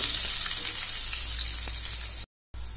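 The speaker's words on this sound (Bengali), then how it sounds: "আলুগুলো ভাজা হচ্ছে" Potatoes fry in hot oil in a pan for a Bengali shukto, giving a steady, loud, dense sizzle with no talk, broken by a brief gap near the end.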